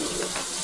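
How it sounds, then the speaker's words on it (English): Water runs steadily from a kitchen faucet, a continuous close hiss and splash that lasts the whole short moment with no talk over it. "That faucet won't stay on."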